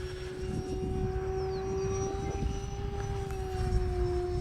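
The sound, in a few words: Avios Zazzy RC airplane flying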